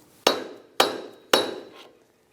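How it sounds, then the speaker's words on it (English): Three sharp, loud metallic hammer blows on a pry bar seating a driveshaft on a 2003-2007 Infiniti G35, evenly spaced, each ringing briefly before fading. "use a pry bar on this flat surface and then hit it with a hammer a few times"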